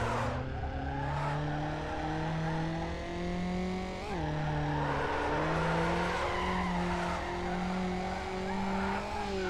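Car drifting in Need for Speed Underground, with a long, loud tire squeal wavering over a revving engine that climbs and shifts pitch, close and continuous throughout.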